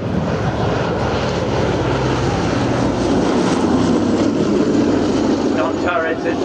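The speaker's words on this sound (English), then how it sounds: "as Roger Mills brings the aircraft in, low and slow" B-17 bomber Sally B flying past low and slow at the Shoreham airshow, a loud, sustained roar of piston engines and propellers that stays steady and close throughout.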